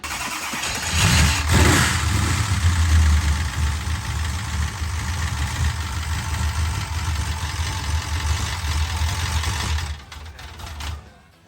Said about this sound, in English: it sounds like the drive chain is actually hitting the valve cover